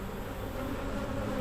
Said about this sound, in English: the bees are making their way down into the entrance